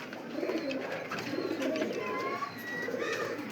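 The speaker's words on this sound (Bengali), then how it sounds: "বেশ কিছু কবুতর আছে," Racer pigeons cooing at a pigeon farm in Savar, with soft overlapping coos and murmurs from several birds under steady background ambience.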